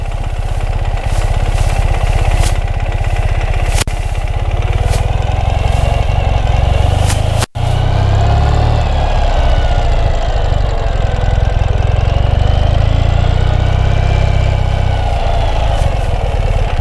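A 2015 Ural cT motorcycle ridden without its sidecar, its engine running with a steady, loud, throbbing low rumble close by, interrupted by one brief cut midway.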